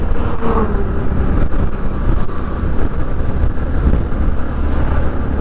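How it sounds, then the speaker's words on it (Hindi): Trucks and other traffic on a highway near Bhadohi, heard from a moving motorbike, a steady loud rumble of engines and road noise with wind buffeting the microphone throughout. "इस रोड पर ट्रक काफ़ी चल रही हैं"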